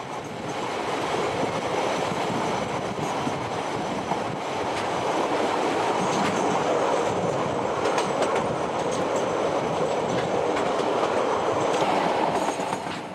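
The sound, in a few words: train running down the line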